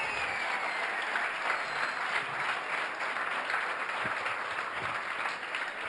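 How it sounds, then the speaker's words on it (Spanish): Sustained applause from a large audience at a national church conference fills the whole stretch, a dense, steady wash of clapping with no speech over it. "Denle un aplauso al Señor por eso"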